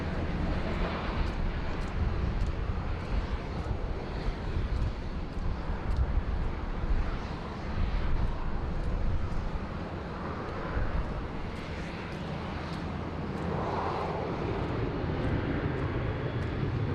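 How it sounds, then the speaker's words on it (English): An airliner bound for Melbourne takes off at Sydney Airport, its jet engines producing a steady, broad roar with wind buffeting, heard from a distance and fairly constant throughout. "Not holding position, but they're clear for takeoff."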